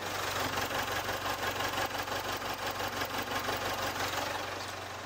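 A Jaguar XE 2.0 20d diesel engine in near-new condition at about 30,000 km idles with the hood open: a steady, fairly quiet mechanical rumble with a fine, even clatter and no voices.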